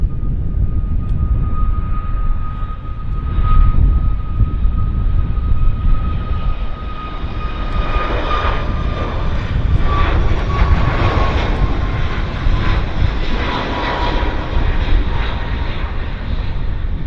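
An Air China airliner taxiing out at Vancouver Airport, a loud, steady rumbling engine roar with a high whine running through it, sustained and close for the whole stretch, with no voices.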